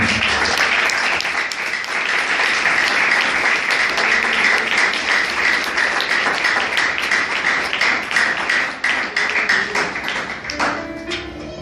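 Congregation at a church service clapping for the Lord, a dense, sustained wash of many hands that stays loud throughout and thins slightly near the end.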